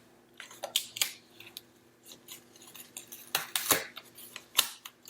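Scissors snip repeatedly up close, a series of short crisp cuts with irregular pauses, with faint rustling of paper between snips.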